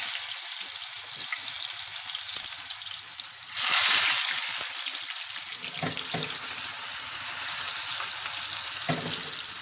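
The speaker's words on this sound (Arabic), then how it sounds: "دابا انا دايره الزيت سخونه، غادي نرمي البطاطا" Potatoes frying in hot oil, a continuous bright sizzle that surges loudly as they drop in, then settles into steady bubbling with occasional utensil clinks.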